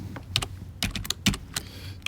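Keys on a computer keyboard clatter in short irregular bursts, several sharp taps clustered together with brief pauses between, close and fairly clear with no one talking.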